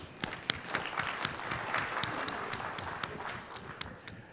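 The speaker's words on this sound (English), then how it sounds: "Give yourselves a round of applause." An audience at a retiree benefits presentation claps in sustained applause, dense and even for over four seconds with a few sharper individual claps standing out.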